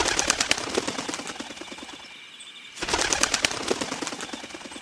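Bird wings flap in rapid bursts overhead during an animated story about a wild rabbit, a quick run of fluttering beats, a short pause, then another close, loud flurry with no voices.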